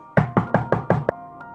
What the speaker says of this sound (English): knocks at the door